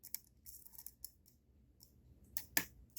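Small metallic clicks of lock pins setting as a lock is picked with a short hook, a sparse scatter of faint ticks and scrapes over quiet background.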